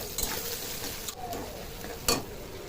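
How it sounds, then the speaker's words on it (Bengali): Shrimp and onion fry in hot oil, a steady close sizzle broken by a few sharp scrapes and clicks as the pan is stirred. "পেঁয়াজের সাথে সাথে কিছুটা চিংড়ি মাছ দিয়ে দেবো।"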